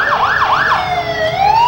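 A fire truck siren wails in a college homecoming parade, rising and falling in quick sweeps before settling into a long, steady rising tone. It is loud and close, with no talking over it.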